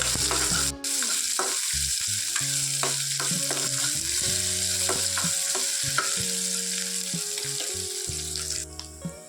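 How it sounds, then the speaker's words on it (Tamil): Chopped onions and curry leaves fry in oil for a bitter gourd dish. A continuous, fairly loud sizzle with stirring sounds runs under steady background music. "கருவேப்பிலை போட்டுக்கலாம் கட் பண்ணி வச்சிருந்த வெங்காயத்தையும் போட்டுக்கலாம் வெங்காயம் கொஞ்ச நேரம் வணங்கட்டும்"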